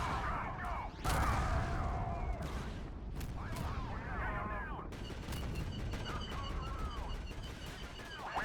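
Rocket troopers open fire in a droids-versus-clones battle in Garry's Mod, a dense continuous rattle of overlapping blaster and gunshot bursts with sharp cracks and whooshing effects, mixed with music-like tones throughout.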